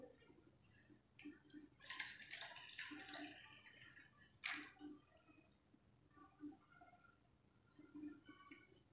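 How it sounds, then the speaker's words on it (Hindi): Water running and splashing as washed poha (flattened rice) is drained in a kitchen, a louder burst of rushing flow mid-way, then lighter trickles and drips, with no talking. "और इसका पानी निकाल देंगे।"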